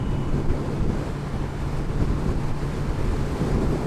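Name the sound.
wind noise while riding a new motorcycle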